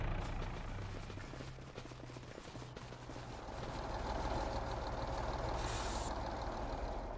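A heavy truck engine in Farming Simulator 25 rumbles steadily, with a low droning note that shifts and a brief hiss of air near the end.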